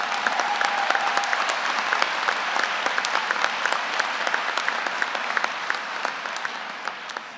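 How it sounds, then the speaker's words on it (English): Large crowd applauding graduating staff at a university winter commencement ceremony, sustained dense clapping with sharp individual claps popping out, no talk. "give them a round of applause"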